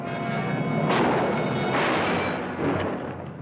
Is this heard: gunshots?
yes